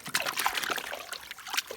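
Running water trickles and splashes into a water bowl on a farm as it is rinsed out, a steady close-up dribble with small splatters.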